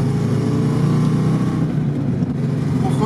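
A ZAZ-968M car engine pulls hard and accelerates, heard from inside as a loud, steady, close low drone with a rough, throbbing tone that holds throughout.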